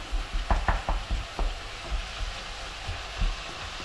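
Ground meat sizzles in a frying pan for a bolognese while a utensil stirs and breaks up the lumps, giving several sharp scraping knocks early on over a steady low fry.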